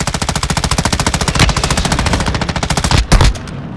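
Rapid automatic gunfire in Call of Duty: Modern Warfare II, a loud, close burst of evenly spaced shots that runs for several seconds, then a couple of heavier blasts before it cuts off.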